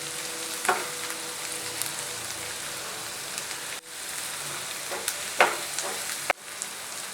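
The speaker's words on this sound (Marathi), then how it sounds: "आता मी यामध्ये लसूण घालत आहे लसूण पण व्यवस्थित टॉस करून घ्यायचं सॉटे करून घ्यायचं" Garlic sautéing with softened onion in a pan, a steady close sizzle with occasional crackles and spatula clicks as it is tossed.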